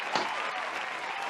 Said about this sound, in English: we got to clap it in and applaud this queen for joining us